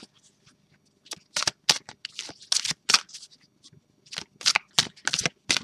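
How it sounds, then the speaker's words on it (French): Oracle divination cards being shuffled by hand, a burst of crisp riffling strokes after a quiet start, then a short pause and another run of close, sharp shuffles. "un petit tirage de cartes quand même"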